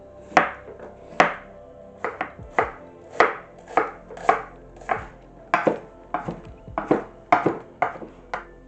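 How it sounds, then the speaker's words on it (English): A knife chops fresh parsley for garnish on a cutting board, about a dozen crisp, evenly spaced thuds in a steady rhythm, close and clear with no talking. "I'm going to chop up some parsley for garnish afterwards"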